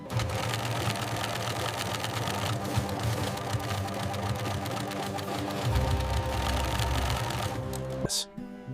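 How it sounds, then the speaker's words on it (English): A heavy-duty walking foot sewing machine stitches apple leather for a handbag at close range, a dense rapid mechanical chatter with a low motor hum, slowing and stopping near the end. "transferring the assembled silhouette to a heavy-duty walking foot sewing machine"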